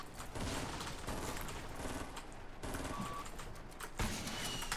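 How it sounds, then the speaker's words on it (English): Continuous loud game combat in Fortnite, a dense barrage of explosive blasts and gunfire consistent with a rocket launcher firing, with sharp bursts near the start, middle and just after four seconds, no talk over it. "They have a rocket launcher."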